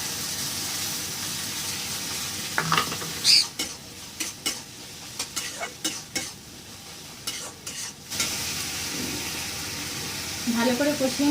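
Spices are sautéed in a pan for an okra curry, with a soft, steady sizzle. Scraping and stirring strokes come in irregular bursts, and near the end a brief, louder wet splash rises.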